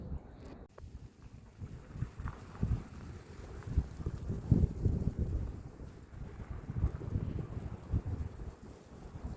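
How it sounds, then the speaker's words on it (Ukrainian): Steady outdoor winter wind gusting through tree branches and remaining leaves, a soft broadband rustle that swells and eases, with light buffeting on the microphone and no voices. "Ось так вітер тріпоче гілочки дерев."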